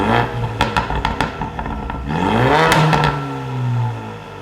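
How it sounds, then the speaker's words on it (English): A 2018–2023 Ford Mustang EcoBoost fitted with a Ford Performance by Borla touring exhaust, loud and close: a few sharp blips give way to a deep rising rev that holds and then settles. "Now let's see how the Ford Performance by Borla touring exhaust sounds."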